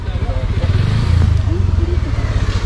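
A motorcycle engine idles close by with a steady, throbbing low rumble, heard under a voice talking, before a ride toward the hairpin curves of Kolli Hills.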